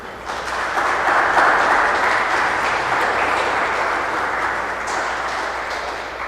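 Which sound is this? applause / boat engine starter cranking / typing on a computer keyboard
applause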